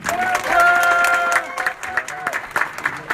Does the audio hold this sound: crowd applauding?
yes